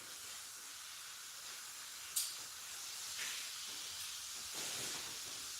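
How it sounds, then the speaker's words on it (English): Adhesive sprays from an aerosol can in a steady, faint hiss that runs continuously, with a sharp click near the start and slight surges as the spray is swept across. "now we'll spray this one"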